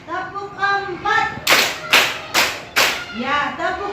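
A class of schoolchildren claps hands in unison, several sharp group claps separated by a teacher's spoken counting cues.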